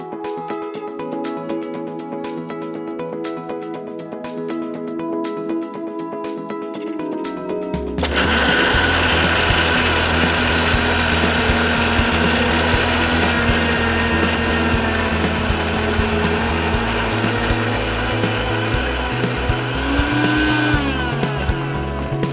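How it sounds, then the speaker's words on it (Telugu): A kitchen mixie grinds roasted peanuts, sesame seeds and cardamom for sweet laddus, its motor kicking in at about eight seconds with a loud, steady whir and rattling grind that keeps going to the end. "So mixie పట్టిద్దామా? మిక్సీ పట్టేద్దామండి."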